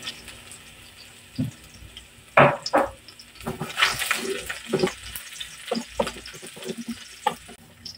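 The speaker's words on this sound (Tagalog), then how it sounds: "once mainit yung mantika, lagyan na natin yung ating bawang" Garlic hits hot cooking oil in a pan for beef pares, giving sharp sizzling bursts and stirring clatter that come and go in uneven spurts, fairly close with no talk.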